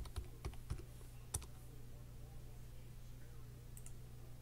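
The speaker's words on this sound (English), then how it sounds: "I'm going to type live." Several quick keystrokes click on a computer keyboard close by during live typing, a short burst of taps near the start before the room settles into a faint quiet hum.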